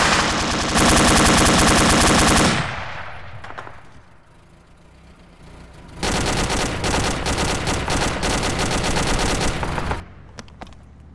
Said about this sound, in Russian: У нас еще ДШК есть.